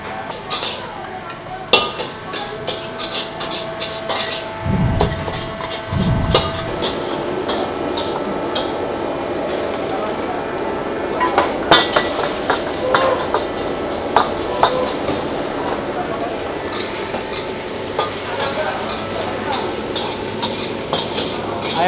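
Hainanese fried rice is stir-fried in a pan with a continuous loud sizzle, and a spatula scrapes and clinks against the metal in repeated strokes throughout.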